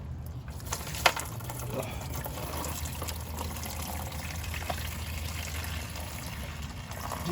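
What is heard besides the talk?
coolant spewing from radiator of 1992 Mazda Miata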